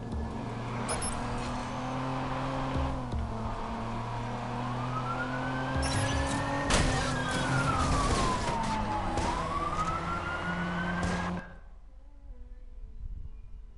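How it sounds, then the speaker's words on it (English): A police patrol car in the video game Watch Dogs races past with its siren wailing up and down over loud engine and traffic noise, then cuts off abruptly, leaving a low hum. "Damn, it's a patrol car."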